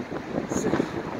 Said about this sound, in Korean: 사진이 흐리게 나올 정도로 바람이 거세게 불고 있습니다